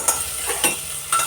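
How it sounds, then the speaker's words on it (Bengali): Vegetables sizzle in a pan as ginger is added and stirred in, a short close burst of frying hiss with a few scraping strokes of a spatula. "সবজিগুলো ভাজা ভাজা হয়ে গেছে, এবার এর মধ্যে একটু আমি আদা করে দিচ্ছি।"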